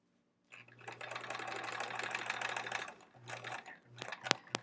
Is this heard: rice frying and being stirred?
no